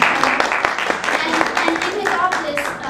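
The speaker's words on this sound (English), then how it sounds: "And you can give him a big round of applause." Audience clapping at a college panel on autism advocacy, a short, moderately loud burst of applause mixed with a voice speaking over it.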